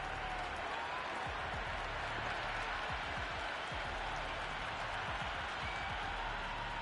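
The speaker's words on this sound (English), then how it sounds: "The crowd are really getting quite raucous." Distant crowd noise in the Cricket 26 video game swells and murmurs in a broad, steady roar, with scattered claps and cheers mixed in, fairly faint.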